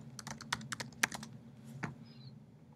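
Typing a username and password on a Mac computer keyboard, a quick irregular run of close key clicks with a few sharper taps, then a short pause and a final keystroke, alone without talk.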